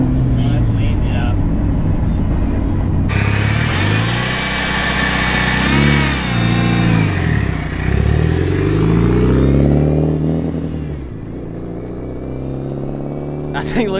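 A Mitsubishi Evo wagon drives by, its engine rising and falling through revs with a loud, close, rumbling tone, while people talk over it.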